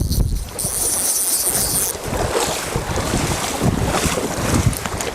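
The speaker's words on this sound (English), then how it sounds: "Windy as buggery, incredible." Strong wind buffeting the microphone on the Eucumbene River in Australia's Snowy Mountains while fly fishing, a loud continuous roar and rumble with gusty swells and no talk.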